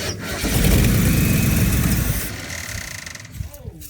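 A 1967 Ford F250 camper special truck engine cranks briefly, then catches and roars to life loudly before dropping into a rough, rumbling idle.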